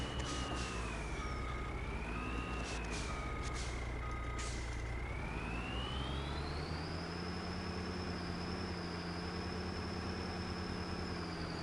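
A tractor engine in Farming Simulator 22 drones loudly and continuously, its pitch sweeping down and then rising and holding as the revs change, with a few brief clicks early on and no talk.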